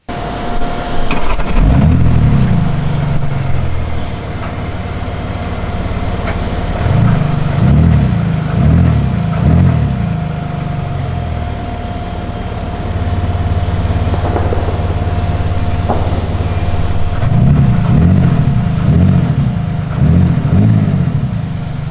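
A 2020 BMW X7 M50d diesel engine revs in repeated bursts with artificial engine sound, two clusters of rising and falling pulses separated by a steady idle, with a faint constant whine underneath.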